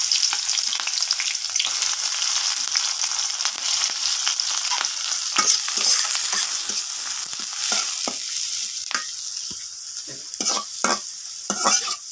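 Onions fry in a pan with a bright, steady sizzle, broken by repeated scraping stirs that rise and fade, close up with no voices.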